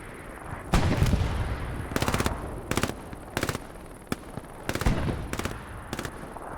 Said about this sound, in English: Nice kill by Marvin with the PPSH